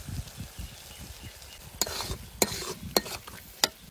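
Tomato paste fries in a pan while being stirred, a soft sizzle underneath sharp, repeated scrapes and clinks of a spoon against the pan, close and intermittent.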